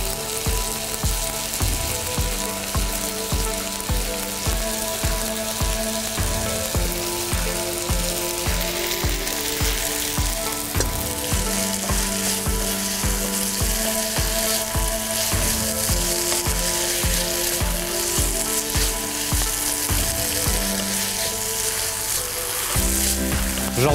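Garlic frying in a pan, heard as a loud, dense sizzle that runs without a break. A rhythmic mechanical clicking and whirring sits over it the whole time, and no one speaks.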